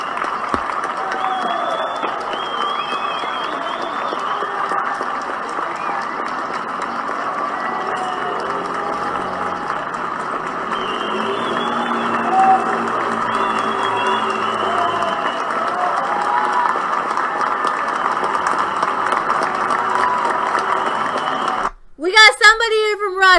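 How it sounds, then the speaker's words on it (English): Many people in quarantined Spain clap from their windows for hospital workers, a steady distant wash of applause that lasts most of the stretch, ending in a brief louder burst. "everyone took a minute at the same time to clap from their windows for doctors, nurses, and all those working in hospitals"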